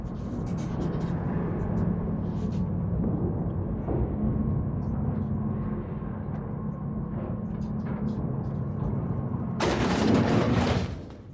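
Gunfire in The Outer Worlds video game: a steady dense roar of shooting and combat noise throughout, with a louder sharp burst near the end.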